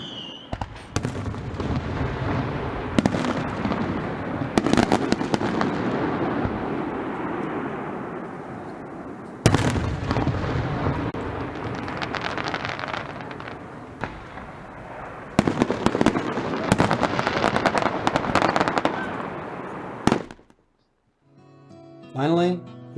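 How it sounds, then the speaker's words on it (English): Night fireworks over Gore Bay, a series of booming bursts and crackling explosions echoing across the water in several loud volleys, then quieting with a brief voice near the end. "the moon came up, we were treated to fireworks"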